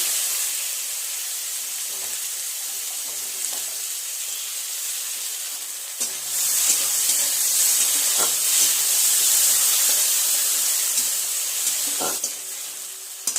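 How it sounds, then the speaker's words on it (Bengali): Chopped onion sizzling and hissing in hot oil with cumin, dried chilli and bay leaf for a fish curry, a loud steady frying sound with occasional stirring clatter, no talking. "দিয়ে দেব পেঁয়াজ কুচি"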